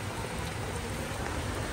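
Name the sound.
heavy rain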